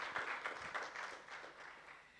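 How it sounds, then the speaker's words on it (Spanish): A church congregation gives a short round of applause to the Lord after a prayer, a faint, dense patter of many hands that slowly tapers off. "un nuevo aplauso al Señor"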